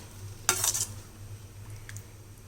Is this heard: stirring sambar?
yes